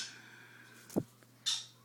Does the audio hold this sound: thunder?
no